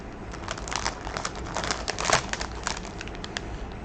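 Card and plastic packaging of a cross-stitch kit crinkle and rustle as they are handled up close, a steady run of crackly bursts with one sharper crackle midway, no talking.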